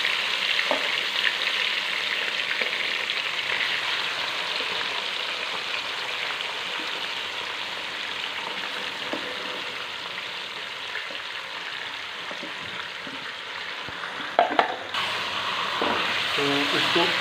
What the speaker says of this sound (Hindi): इसमें शामिल करेंगे चिकन को और इसको अच्छे से फ्राई कर लेंगे।